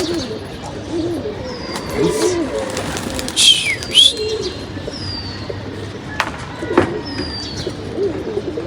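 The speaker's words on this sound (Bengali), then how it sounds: "এখানে কয়েকটা কবুতর আছে" Pigeons coo and call in a loose group, with several short sharp chirps and soft throaty coos rising over a steady outdoor background hum, fairly close throughout.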